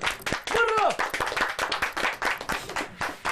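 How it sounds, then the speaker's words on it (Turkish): Studio audience clapping on request, a burst of rhythmic hand claps close by, mixed with talking and a sung phrase over the top. "O zaman beni bir alkışlayın."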